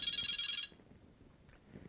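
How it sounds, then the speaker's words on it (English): A Delkim carp-fishing bite alarm's warbling electronic tone, played from a phone app, sounds loud and close for about two-thirds of a second, then cuts off, leaving quiet room noise. "You can have the Delkim ringtone."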